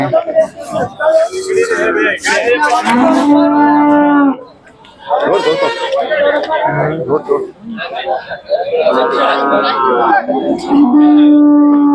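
A dairy cow moos a few times at the Sangola cattle market, long low calls rising out of near, busy talk among several people.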